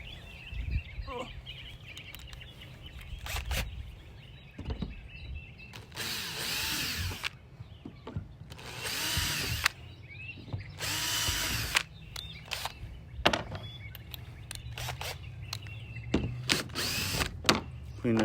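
A power drill whirs in several short bursts into a plastic kayak hull while fitting a gear track, some close and loud, with pauses between, faint birdsong and occasional low voices around it.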